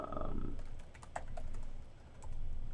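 Keys clacking on a new computer keyboard, a handful of light, irregular taps over a steady background hum, close and fairly quiet.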